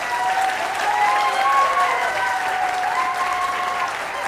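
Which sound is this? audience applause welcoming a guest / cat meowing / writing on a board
audience applause welcoming a guest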